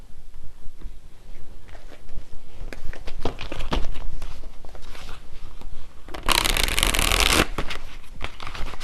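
Tarot cards shuffled and drawn by hand, soft papery riffles and taps building to a loud, dense riffle near the end, close up with no talking.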